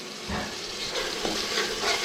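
Masala spices sizzling and frying in a pan, a steady close crackling hiss throughout with some stirring and faint water noise mixed in.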